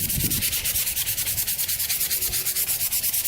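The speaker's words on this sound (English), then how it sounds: "I think this is 220 grit, sandpaper, and just go over it lightly." A rusted exhaust on a Yamaha Warrior 350 ATV being sanded by hand with 220 grit sandpaper, rapid rhythmic back-and-forth rasping strokes, close and steady, with no talking.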